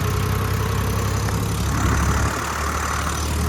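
A tractor engine hauls a trolley full of people on a long overnight relief run. Its steady, loud, low diesel drone continues without a break, with no talk over it.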